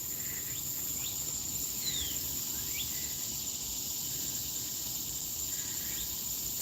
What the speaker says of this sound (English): I can hear some bird calling.